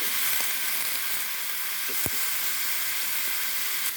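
Pumpkin and shrimp sauté in a hot pan with a steady, close sizzle and crackle, with a single sharp knock of a utensil partway through and no talking.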